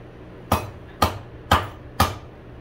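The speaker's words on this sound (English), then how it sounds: "I'll take this wooden mallet that I made" A handmade wooden mallet strikes a hot forged steel S hook four times in an even rhythm, each blow a sharp, close knock on a quiet background.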